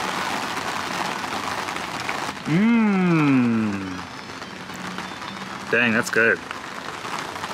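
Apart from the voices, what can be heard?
rain falling on umbrella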